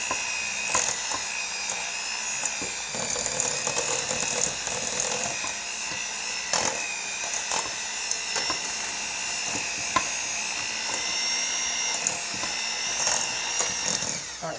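Chocolate chip cookie batter being mixed, most likely with an electric mixer, a steady whirring drone running throughout with small rhythmic bumps, close and fairly loud, with no talking.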